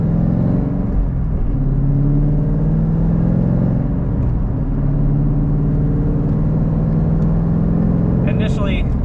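A Ford Mustang S550 with newly installed sway bars out on a road test, giving a steady, loud engine drone and road rumble throughout, with a brief rise near the end.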